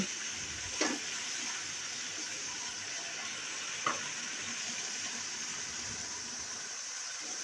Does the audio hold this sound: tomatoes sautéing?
yes